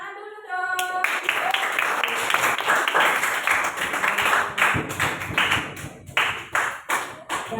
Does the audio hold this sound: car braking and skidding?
no